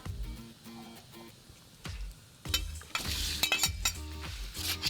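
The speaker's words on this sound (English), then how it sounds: "we're gonna toss in about 1 pound of shrimp" A pound of shrimp tossed into a pan with garlic and ginger for ma po tofu, giving clattering clinks and stirring scrapes over a soft sizzle, with background music and no talk.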